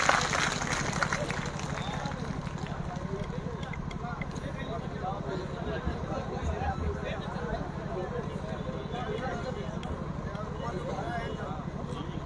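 A crowd at an outdoor public meeting in Kerakat, Jaunpur district, breaks into sustained, dense applause, a steady rapid patter of many hands clapping at moderate distance for the whole stretch.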